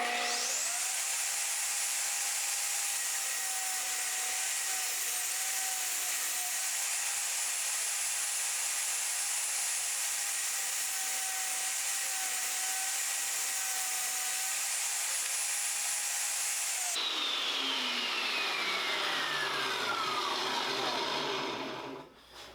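Table saw blade running steadily as a wood strip is ripped in a single pass, a loud sustained whine that winds down as the motor coasts to a stop near the end; no talking.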